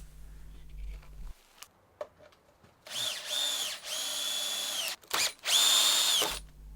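A power drill drives decking screws into a timber workshop floor frame in several bursts, whirring up and down in pitch, close and loud between quiet handling pauses.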